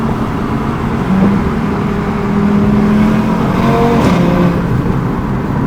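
An Audi RS3 pulls hard in second gear on boost, a loud continuous engine roar that holds steady with a slight rise in pitch and a brief shift-like change near the end, no talking.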